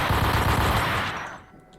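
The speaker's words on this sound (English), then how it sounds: "You kind of drowned out by gunfire." Dense, continuous machine gun fire in the Max Payne video game, loud and close, then fading out toward the end.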